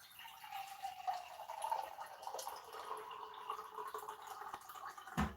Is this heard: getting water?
yes